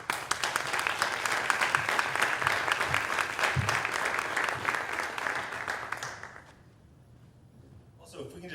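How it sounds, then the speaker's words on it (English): An audience at a school community summit applauds steadily for about six seconds, then the clapping fades into a quiet room before talk resumes. "give a huge round of applause to all our students here"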